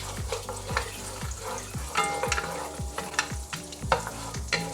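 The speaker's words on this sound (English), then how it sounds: "Just going to saute that a little bit." Peppercorns and whole spices sautéing in a pot for one-pot chicken and rice, a steady sizzle broken by regular scraping strokes of a spoon stirring, close and moderately loud.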